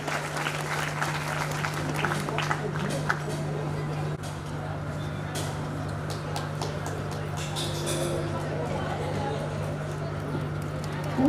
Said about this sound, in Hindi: तालियां बजाइए, करतल ध्वनि बजती रहे